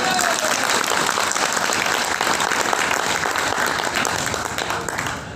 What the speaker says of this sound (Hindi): जोरदार तालियों से स्वागत है।